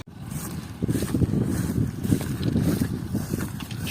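An MTZ tractor pulls away during a barley harvest, a steady low engine rumble mixed with wind noise, close and continuous throughout.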